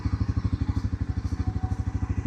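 A Bajaj Pulsar NS 400Z 2025 model, a 373 cc motorcycle, idles at about 1200 RPM, with a steady, even thumping engine pulse repeating rapidly and evenly at close range.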